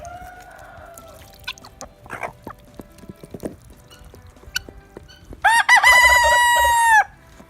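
Scattered hen clucks and rustling, followed by a loud rooster crowing up close near the end.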